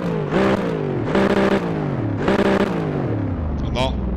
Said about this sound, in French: Écoutez-moi ce son de moteur